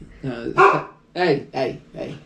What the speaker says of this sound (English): My dog is barking over there.